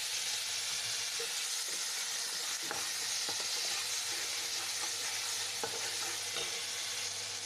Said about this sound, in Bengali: একটু হলুদ দেব মশলাটা কষানোর জন্য একটু জল দিয়ে দেবো